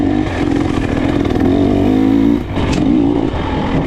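A KTM 300 XC-W enduro motorcycle's engine drones and revs steadily while being ridden, loud and close throughout, dipping briefly before picking back up; no talking.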